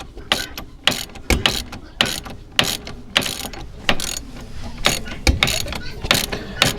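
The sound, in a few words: unscrewing A-arm bolt on CForce 500 ATV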